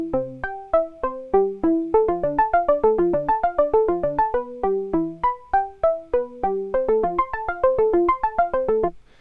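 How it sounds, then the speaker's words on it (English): Bright plucked tones from a Roland AIRA Compact J-6 synthesizer step through a repeating pattern of chords, rhythmic and clean, with no talking. "I've put a sequence of chords in and it sounds like this"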